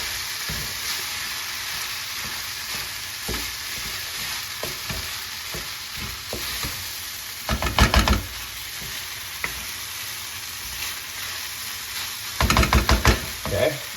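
Pork fried rice sizzles in a hot pan with soy sauce, a steady close frying hiss broken by occasional scrapes and two bursts of rapid clattering stirring, with no talking.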